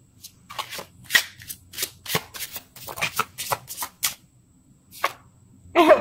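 Cards are shuffled up close in quick, irregular bursts of flicking riffles separated by short pauses, ending with a louder riffle.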